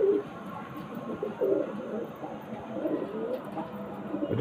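Pigeon cooing from an old-generation black-green male, soft repeated coos close by over a steady background murmur, with no talk.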